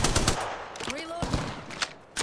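Rapid gunfire bursts ring out in the Apex Legends video game, sharp repeated shots close by, mixed with game effects and a voice speaking briefly.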